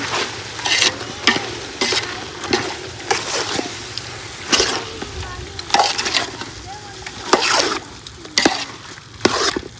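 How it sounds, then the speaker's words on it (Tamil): Chicken being stirred in a pan with turmeric and chilli powder, a village-style biriyani in progress: repeated scraping and stirring strokes with a light sizzle underneath, close and fairly loud, with no voices. "நல்லா கலந்து விட்டுக்கலாம்."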